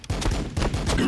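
Gunfire in Warhammer 40,000: Battlesector, a Blood Angels battle: a quick burst of three or four loud, heavy shots in rapid succession, close and booming.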